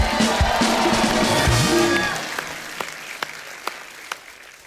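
Studio audience on a comedy talk show applauds loudly for a singer, a dense burst of clapping and cheering that fades after about two seconds into a few scattered, isolated claps.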